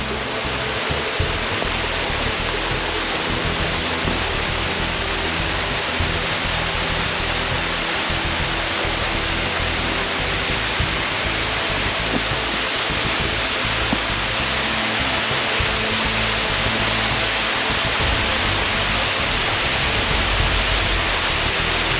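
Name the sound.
waterfall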